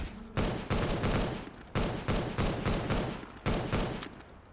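Automatic fire from an ArcCW weapon in Garry's Mod, loud close bursts of rapid shots in several repeated strings separated by short pauses, with no talking.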